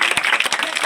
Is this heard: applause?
yes